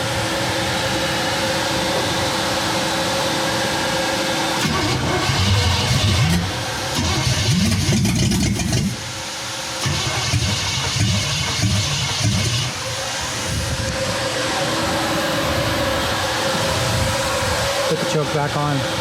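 A 1963 Chevy C10 truck engine with no exhaust and timing way off runs rough and raw close by, revving up and dropping back several times with a harsh, unmuffled roar.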